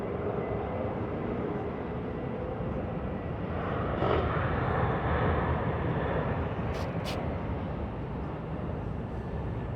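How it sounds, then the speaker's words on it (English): An airplane coming in to land at LAX drones steadily in the distance, a broad rushing roar that swells slightly midway, heard alone outdoors. "That's our plane coming in right there."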